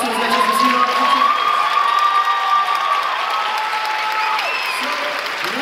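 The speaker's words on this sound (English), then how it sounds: "Let's give a round of applause for all the students that just received our attention." Audience applause and cheering for students at a 2023 NHS ceremony, a dense sustained roar of clapping with whoops and voices, loud and unbroken, with a held tone running through it.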